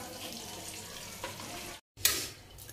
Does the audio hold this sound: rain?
no